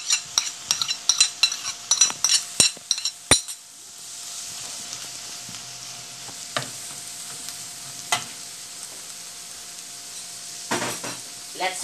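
Canned tuna, drained of its oil, fries in a pan as it is stirred: quick metallic clinks and scrapes of a utensil against the pan, then a steady close sizzle with occasional taps.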